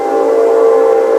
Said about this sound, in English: there's a train going by.